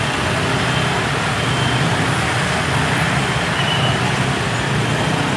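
Dense night traffic idles and crawls at a railway level crossing, a steady broadband roar of car, bus and truck engines with no clear pauses and no talk.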